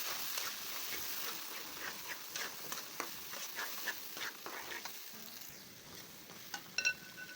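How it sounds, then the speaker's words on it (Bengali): Cumin and coriander paste, together with chili, garlic and ginger pastes, sizzles steadily in a pan while being stirred, with scattered scraping clicks of the spoon over a continuous hiss and no talk. "জিরা বাটা, ধনে পেস্ট একসাথে দিয়ে দিচ্ছি। মশলাগুলো গুলে নিচ্ছি।"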